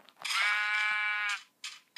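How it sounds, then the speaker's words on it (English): A sheep bleats once in Minecraft Pocket Edition, giving a single drawn-out, wavering blocky bleat of about a second, loud and close. A short fainter game sound follows after it. "Sheep, move out of the way before I kill you."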